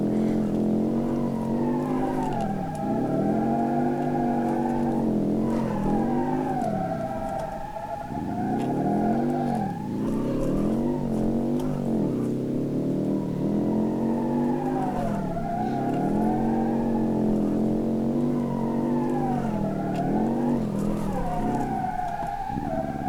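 A rear-engine car drifting in the BeamNG.Drive driving game, its engine note rising and falling in repeated sweeps of revving as the car slides, with tyre squeal mixed in, steady and loud throughout.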